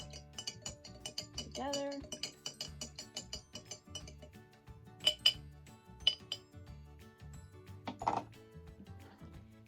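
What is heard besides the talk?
spoon stirring and clinking in a glass jar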